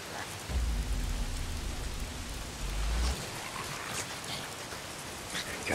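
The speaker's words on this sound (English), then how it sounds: "Why is it always raining?" Steady rain pours in the video game Days Gone, a continuous hissing downpour with a low rumble of thunder early on, no voices.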